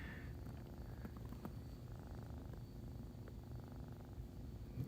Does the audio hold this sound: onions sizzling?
no